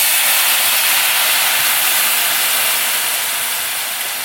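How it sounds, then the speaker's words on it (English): A generous splash of Marsala wine hits a hot pan with mushrooms and prosciutto and gives a loud, steady hiss of sizzling that fades slowly and has no voices over it. "This part can be a little scary because you're gonna get a real loud sizzle, okay?"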